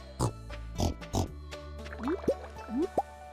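Pigs on a Stardew Valley farm grunt in a few short snorts, then squeal in rising chirping calls repeated several times, close and clear against a low game hum.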